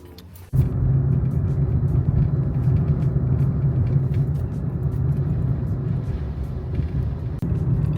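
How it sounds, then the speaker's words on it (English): A car driving on the road, its steady low engine rumble and tyre noise close and constant for the whole stretch, with no voices. "I am driving to the gym."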